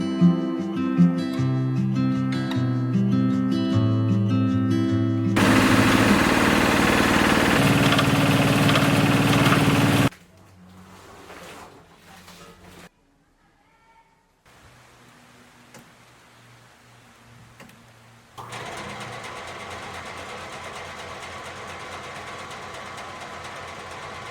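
An engine-driven grass shredder works at a community composting site in a barangay, a loud rough mechanical roar running in bursts with pauses and changes in load between them.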